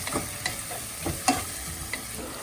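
Tomato masala cooking in a pan for paneer bhurji, heard as a steady sizzle broken by several distinct scrapes and knocks of a spoon stirring the mixture close by.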